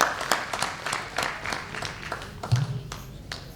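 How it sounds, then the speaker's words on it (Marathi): An audience claps to welcome Darade saheb at a gathering, a loose, moderate round of applause with irregular hand claps and some background murmur. "आपण दाराडे साहेबांचं टाळ्या वाजून स्वागत करायचं आहे"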